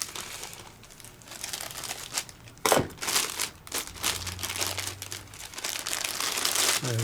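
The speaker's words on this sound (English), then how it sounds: "there's a bit of the plastic bags that came out from the kit. I'm just going to cut a bit off here." Scissors slice through a thin plastic bag from a model kit, giving close, quiet crinkling and rustling with a few sharper snips and crackles, no voices.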